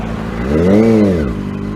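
A 636 sport motorcycle engine winds up hard at speed, its pitch rising and falling once in a loud, close, continuous roar.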